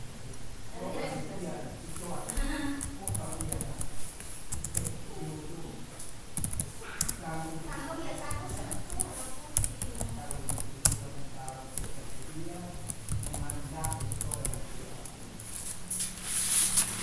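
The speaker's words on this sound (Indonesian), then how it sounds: "Di dalam sini kita akan mengetik script update-nya." Keys clatter steadily on a computer keyboard while a PHP update script is typed out, a dense run of close, quick clicks continuing through the whole stretch with a voice talking over it.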